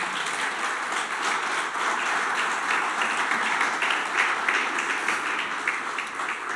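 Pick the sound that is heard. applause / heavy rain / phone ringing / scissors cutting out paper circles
applause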